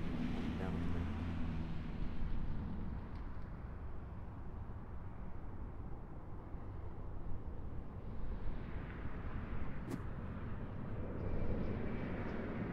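An airliner approaches Raleigh-Durham International Airport, a broad, steady engine roar that fills the scene at moderate distance with little change in level, and talk is heard faintly in the background.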